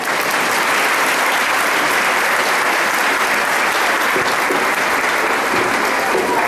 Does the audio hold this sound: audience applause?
yes